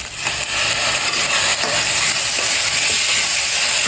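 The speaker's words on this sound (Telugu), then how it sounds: "వేసి వేయించుకోవాలి. టమాటో వేగిపోయింది." Tomatoes fry with ginger garlic paste in a pan for egg rice, giving a steady, loud sizzle and hiss with occasional stirring scrapes throughout, no voices.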